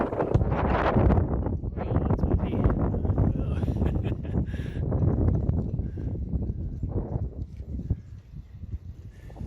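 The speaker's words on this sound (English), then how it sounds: "I didn't realize it was going to be so windy." Strong, gusty wind roars at a yacht club on a windy sailing day, a loud buffeting rush that rises and falls in bursts, fairly close and dominating throughout.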